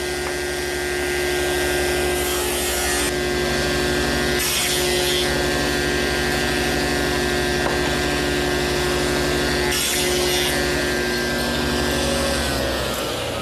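Wooden tenons for corner chair stretchers and rails cut with a power saw in a woodshop, a loud steady machine drone with brief changes in tone as several cuts are made.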